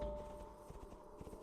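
A horse gallops in World of Warcraft, with rapid, rhythmic game hoofbeats thudding close and clear over a low tone, no talk over it.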